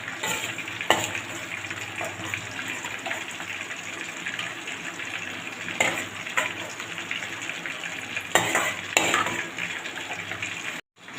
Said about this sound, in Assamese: এয়া কাজুখিনি ফ্ৰাই হৈ গ'ল।